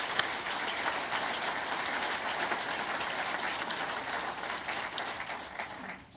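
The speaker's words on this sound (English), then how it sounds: "big round of applause for their generous support" A room of attendees at a U.S.–Irish business event gives a round of applause for sponsors, a soft, even patter of many hands heard from a distance, steady throughout and trailing off at the very end.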